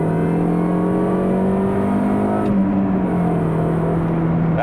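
A 2004 Mini Cooper S R53 with a six-speed manual and 313,000 miles accelerating hard with wheel spin through first gear, a loud steady engine drone rising in pitch inside the cabin, with a brief shift partway through.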